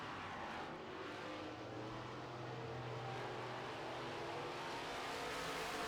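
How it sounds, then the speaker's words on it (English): Midwest modified race cars roar around a dirt track in a heat race, a continuous distant blend of engines with a faint rising and falling drone, no talk heard. "A lot of cars having problems on turns 1 and 2, holding it in."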